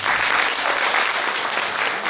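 Loud, dense applause from an audience at a Bulgarian village folk gathering welcoming a youth dance ensemble, steady and continuous throughout without a break.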